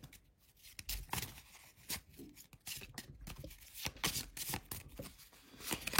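A deck of cards is shuffled for the board game Shadows of Brimstone, a close, quiet run of riffling and flicking card sounds that continues with uneven bursts throughout.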